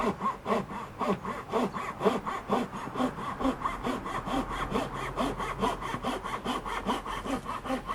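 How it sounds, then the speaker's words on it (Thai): A Japanese hand saw cuts through hardwood with fast, even back-and-forth strokes, close up and continuous throughout. "มันเป็นเลื่อยญี่ปุ่นมันก็จะตัด"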